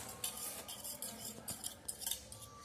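A spoon stirring chillies into curd for perugu pacchadi, soft scraping and light clinks against a bowl in a quiet, irregular rhythm, close but faint, with no talk.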